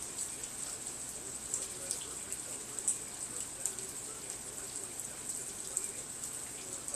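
Light rain falls as a steady fine patter with scattered sharper drops, faint and continuous across the whole stretch.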